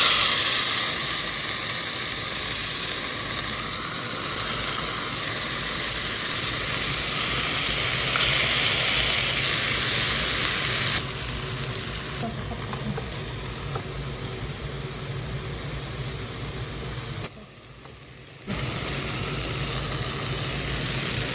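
Onion frying in hot oil gives off a loud, steady, close sizzle that continues without a break, shifts briefly in tone partway through, and drops out for about a second before returning at full strength.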